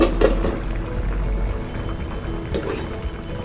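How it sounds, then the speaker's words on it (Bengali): Pumpkin simmering in a covered pot as the lid is lifted, releasing a steady close bubbling, boiling wash with a couple of brief clinks, no talk. "এখন আমি ঢাকনাটা তুলে নিচ্ছি"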